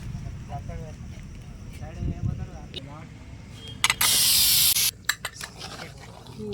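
A pressure cooker cooking mutton at a village fair near Warangal lets out one loud, sharp hiss lasting about a second, with people talking and background bustle before and after.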